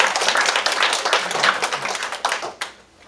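A crowd claps at a community meeting on a state amendment held by the governor in Huntington, with dense, fairly close applause sustained for a few seconds before thinning out and fading.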